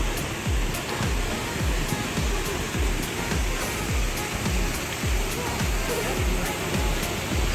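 At the Kusatsu hot spring in Gunma, Japan, steaming spring water pours down in a steady, loud roar and wash that continues without a break, with faint clicks above it.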